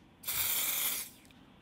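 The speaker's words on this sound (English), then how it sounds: "you get way better coverage just spraying it on your face" A single steady hiss of Dior Airflash spray foundation from an aerosol can lasting nearly a second, close and fairly loud, then quiet.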